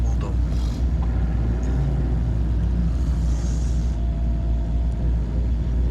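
A cold Opel Zafira B engine is gently revved during a turbo check, producing a loud, steady, close-up low rumble with only slight rises in pitch.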